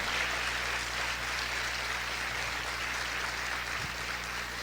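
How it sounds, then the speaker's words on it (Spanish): A church congregation applauds and cheers for the Lord in a steady, dense wash of clapping that fills the whole moment without letup. "¿Cuántos pueden aplaudir más fuerte al Señor?"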